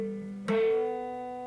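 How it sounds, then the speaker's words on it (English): On a guitar, a muted 4th string is picked while a note on the 5th string rings on, giving one soft, dull pluck that dies at once against the sustained tone. "It's just a dead string."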